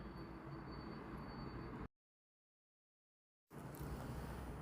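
The inside of a moving passenger train in Madhya Pradesh gives a steady low rumble and wind-like hiss. The sound cuts to total silence for about a second and a half partway through, then returns.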